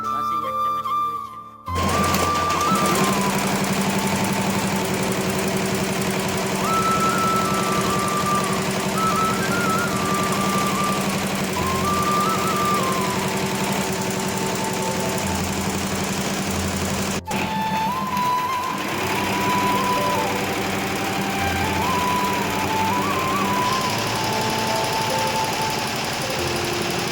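A computer-controlled machine runs close by with a loud, steady mechanical chatter and hum that continues throughout, and whistling pitched tones rise and fall over it.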